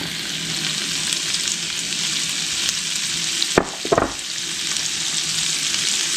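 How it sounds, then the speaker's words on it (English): Celery and onions fry in melted butter, with diced potatoes, for a chicken or turkey pot pie; a loud, constant sizzle runs throughout, broken by a couple of brief stirring scrapes near the middle. "Now I'm going to add in my celery and onions."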